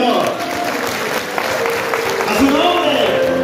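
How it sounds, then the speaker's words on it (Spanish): A church congregation claps hands loudly during a worship service, a dense continuous wash of applause that rises slightly toward the end, with no speech over it. "Dale fuerte palmas al Señor."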